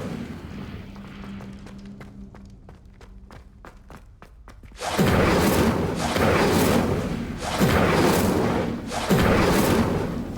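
Incendio fire spell in Hogwarts Legacy: after a quieter stretch of faint ticking, a loud roaring burst erupts and pulses in three or four heavy surges, close and sustained.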